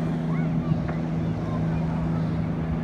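Jet ski engine droning on the sea off an Ocean City, New Jersey beach, a steady low hum mixed with wind noise and surf, moderately distant, with faint talk over it.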